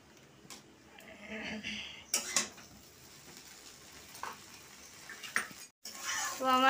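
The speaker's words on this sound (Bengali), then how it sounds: "আমি একটু অল্প সস দিয়ে একটু নেড়ে চড়ে নেবো একটু।" A spatula scrapes and clinks against a pan while chow mein with a little sauce is stirred. There are intermittent metallic knocks over a faint sizzle, and a person talks at times.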